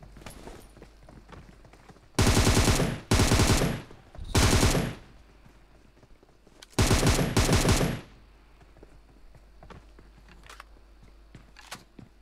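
Loud bursts of rapid automatic gunfire in a solo-versus-squad battle royale match, four separate volleys of roughly a second each with quieter gaps and faint distant shots between.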